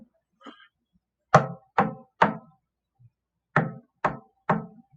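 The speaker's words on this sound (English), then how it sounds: "3 knocks in a row, like." Sharp wooden knocks come in two clean groups of three, evenly spaced and fairly loud against near silence, with faint soft taps in between.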